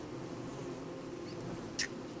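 A swarm of bees buzzes in Don't Starve Together, a steady low droning hum with one brief brighter chirp near the end, faint and continuous with no voices.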